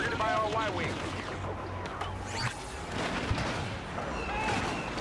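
Explosions and gunfire from an orbital strike in Star Wars Battlefront, booming, crackling blasts over a busy battle din, with someone talking over parts of it.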